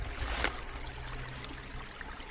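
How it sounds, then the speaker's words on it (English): A small stream trickles steadily on a hiking trail across a rural land parcel, a close, continuous burble of flowing water with a brief louder splash at the start. "There's another trickle of pretty good flowing water here."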